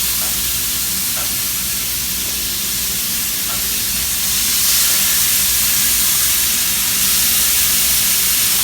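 Marinated beef sizzles loudly on a grill set up without oil, a dense, continuous hissing crackle that holds steady and swells slightly partway through, close and with no talking.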